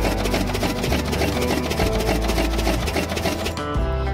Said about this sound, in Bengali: এরপরে যে ছোট্ট মেশিনটা দেখছেন, এটার সাহায্যে জেসিবি যেই মাটিগুলো ফিনিশিং করা হয়েছিল সেই মাটিটাকে আরও ফিনিশিং করার জন্য এই ছোট্ট মেশিনটাকে লাগানো হয়।